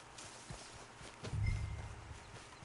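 A horse's hooves in Red Dead Redemption 2, a few soft clip-clops followed by a louder muffled thud of hoofbeats, fairly faint overall.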